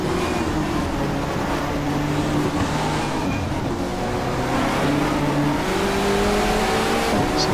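Touring car engines drone and rev in the GTR2 racing game during a 1994 Asia-Pacific Touring Car Championship race, with several cars close together on the first lap. Loud, continuous engine tones climb and shift through the gears with no talk.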